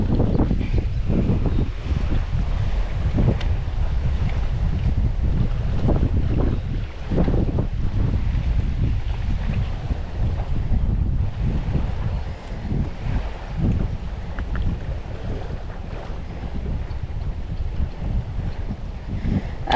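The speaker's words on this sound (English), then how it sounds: "The wind is just coming right at us, which makes it difficult to cast and everything." Strong wind blowing straight onshore at a lakeside or shore fishing spot: loud, continuous rumbling gusts buffeting the microphone, with faint water movement beneath and no speech.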